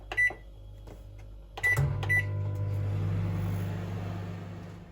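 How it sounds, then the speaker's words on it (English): A microwave oven hums steadily after a few sharp button beeps while melting chocolate and butter, its low drone continuing evenly with no voices. "Then melt in the microwave your chocolate and butter."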